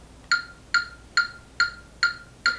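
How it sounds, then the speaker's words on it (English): Six sharp electronic metronome clicks in a quicker steady beat, evenly spaced and clear, with nothing else but faint background hiss. "Or you can make it faster, and it would sound like this."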